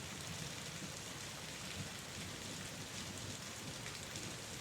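Steady rainfall fills the space as a continuous, even hiss of drops on surfaces, fairly soft and unbroken with no voices.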